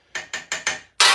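Hammer striking metal armour stock pinched between two hammer faces: four sharp, ringing blows in steady rhythm, close and loud, followed by a brighter fifth strike with no talk.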